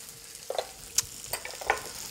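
Mushrooms searing in a hot pan give a soft, faint sizzle punctuated by a few brief clicks and taps.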